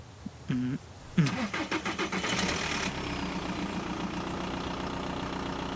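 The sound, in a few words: car engine starting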